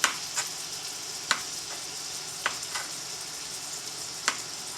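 A sausage sizzles in a hot pan, a steady crackling hiss broken by several sharp clicks and scrapes of stirring at irregular intervals.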